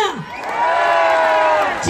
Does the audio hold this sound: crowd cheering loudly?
yes